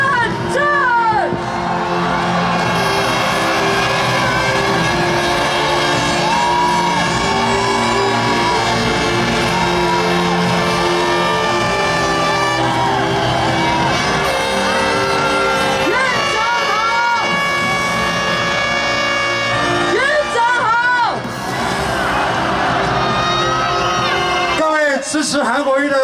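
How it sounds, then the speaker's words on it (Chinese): Large outdoor crowd at a 2019 Taiwanese presidential campaign rally in Sanchong Shuiyang Park, New Taipei, cheering, whooping and shouting continuously and loudly, with music and amplified announcements over it throughout. "让我们欢迎最耀眼的掌声，欢迎张善政"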